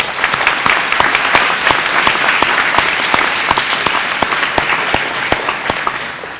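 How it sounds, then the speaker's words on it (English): A crowd claps steadily and loudly, dense applause with sharp individual claps standing out throughout, no voices. "Give him a big round of applause."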